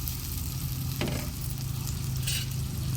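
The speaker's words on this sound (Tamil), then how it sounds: "தக்காளியும் பச்சை மிளகாவும் சேர்த்துக்கலாம். போட்டாச்சு. போட்டு நல்லா வதக்கிக்கலாம்" Tomatoes and green chillies sizzle in a pan over a wood fire, a steady close crackle with a low hum beneath and a couple of brief scraping stirs.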